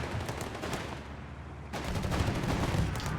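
BAR automatic rifles fire during a Company of Heroes 3 battle between a rifle squad and Panzer Pioneers: dense, continuous bursts of gunfire with overlapping shots at close range.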